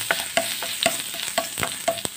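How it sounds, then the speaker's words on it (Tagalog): Garlic sizzles in a pan as the base for a sweet sauce, with a steady frying hiss punctuated by regular scraping stirs of a spatula, close and clear. "iunahin natin ilagay sa ating kawali ang ating bawang."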